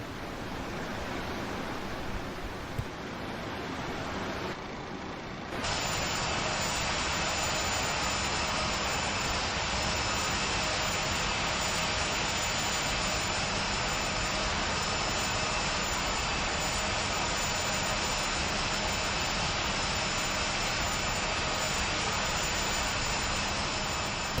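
Boeing 737 jet engines in the iFly flight simulator game on approach into Dublin, a steady loud roar of engine and airflow noise that thickens after a few seconds and then holds constant throughout, with no voices.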